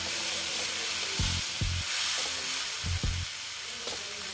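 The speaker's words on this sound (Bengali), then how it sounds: "দেখো জল দিয়ে দিলাম" Potatoes frying in a pan give off a steady hiss and sizzle after water is added, with a few low thumps as the pan or spoon moves.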